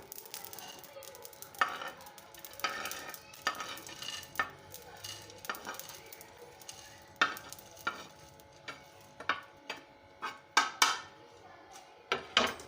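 Whole spices for homemade garam masala dry roasted in a pan, stirred with repeated scraping and rattling strokes, light and close, with a faint steady background hum and no speech.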